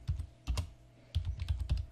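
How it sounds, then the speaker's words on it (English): Keys clack on a computer keyboard in quick close bursts separated by short pauses, quiet and dry with no voices. "we're going to type it in again"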